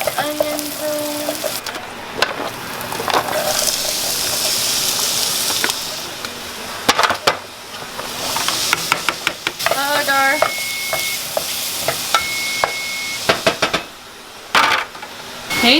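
Garlic browning and sautéing in a hot pan gives a steady sizzle and crackle, with occasional clinks and stirring scrapes and a few sharp utensil taps near the end.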